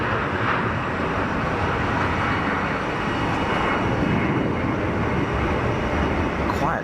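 An Airbus A320 jet departs Geneva Airport with a reduced-thrust takeoff, a loud, continuous broadband engine roar holding steady from start to finish.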